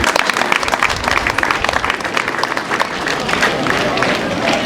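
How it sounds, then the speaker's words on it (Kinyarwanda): Sustained applause from a school crowd at an event at Ecole de l'Espoir de l'Avenir in Nyamata, Bugesera, a dense, steady clapping that fills the room for several seconds with faint voices mixed in. "Mwongera amashyi."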